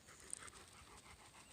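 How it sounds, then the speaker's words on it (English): Two dogs at home pant and grunt faintly in the background, a soft continuous breathy rasp with no voices present. "Sorry if you hear any grunting in the background, it's that dog and the other one, Jasper and Diamond."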